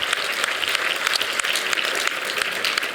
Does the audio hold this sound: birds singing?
no